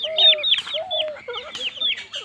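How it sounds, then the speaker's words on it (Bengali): Growing chicken chicks, including young fighter-breed birds, cluck and cheep in a steady overlapping stream of short calls, close and fairly loud, with no talking. "মুরগির বাচ্চাগুলো অনেক বড় হয়ে গেছে"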